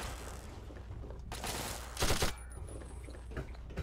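A machine gun in Fallout 3 fires in short bursts, fairly subdued and muffled, with a louder crackling volley midway amid game ambience.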